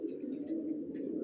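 A maxi racer pigeon coos in a low, continuous burbling murmur, close and fairly soft, with no talk over it.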